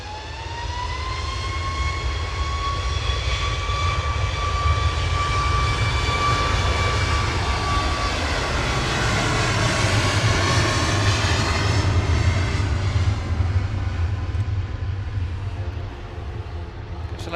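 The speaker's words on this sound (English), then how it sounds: "Ryanair 49272 Paphos lined up and ready to go" A Ryanair Boeing 737 Max 8 jet rolls for takeoff at Manchester Airport, a loud, sustained roar with a rising whine that builds and sweeps as the aircraft accelerates nearby.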